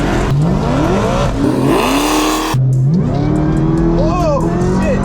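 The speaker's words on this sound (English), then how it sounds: "today we're going to be driving a 1400 horsepower Hellcat." A 1400-horsepower Dodge Hellcat at a drag strip roars loud and close, its engine pitch climbing in several rising revs with brief drops between gear changes.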